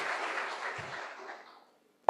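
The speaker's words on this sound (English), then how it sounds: "Big round of applause." Audience applause after a safety talk at a hackathon, a broad wash of clapping that thins out and fades within two seconds, ending in a brief sharp knock.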